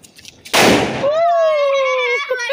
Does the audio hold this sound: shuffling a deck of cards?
no